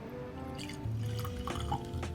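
Booker's Barry's Batch bourbon, bottled at 125.7 proof, is poured from the bottle into a glass, giving a short, close trickle and a few soft drips against a quiet background.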